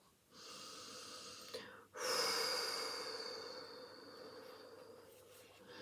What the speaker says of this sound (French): Inspire, expire, portant ton attention sur l'air qui entre et qui sort.